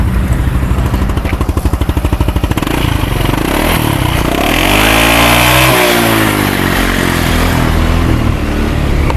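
A Honda Forza 300 scooter from 2022, fitted with an upgraded aftermarket exhaust, starts with a rapid throbbing idle, then revs up loud and close in a rising and falling surge before settling into a steady high drone.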